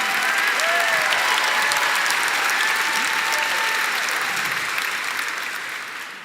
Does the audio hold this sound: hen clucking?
no